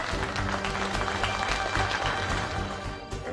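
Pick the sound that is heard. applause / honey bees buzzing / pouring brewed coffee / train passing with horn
applause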